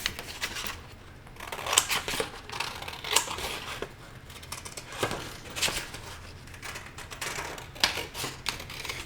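Scissors cutting out a paper worksheet along printed lines, a steady run of crisp close snips and rustles repeating throughout with no talking.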